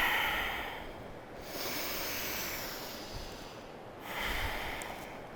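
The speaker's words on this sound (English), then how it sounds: "we'll start to bellow the breath in a really slow, steady way" Slow, steady deep breathing during a grounding yoga therapy practice, big inhales and exhales swelling and fading in long breathy waves, close and soft with no talking.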